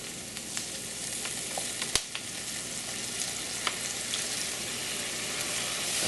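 Fish sauce (patis) hitting hot oil with black pepper while cooking tilapia in coconut milk: a loud, steady, close sizzle with a few sharp pops and clicks, and no voices.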